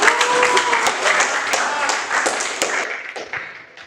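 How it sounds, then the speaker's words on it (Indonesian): A classroom full of people applauding a group presentation, dense overlapping claps that gradually fade out. "Tepuk tangan buat kelompok"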